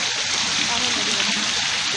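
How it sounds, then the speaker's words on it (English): Water pours and splashes steadily from a pool waterfall, a continuous close hiss of spray with faint voices mixed underneath. "Go under the waterfall."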